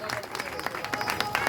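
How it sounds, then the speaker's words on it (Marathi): Audience applause at an award ceremony, a steady wash of many hands clapping in a hall, moderately loud and continuous throughout the short stretch. "तर यांच्यासाठी पण आपण जोरदार टाळ्या वाजवूया"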